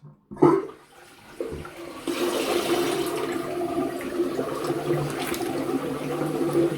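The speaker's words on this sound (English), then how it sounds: "I'm just going to take the warm water out" Warm water drains from a shaving sink, starting with a clunk and brief gurgle, then a steady rushing, gurgling flow that runs on loud and close, with no talk.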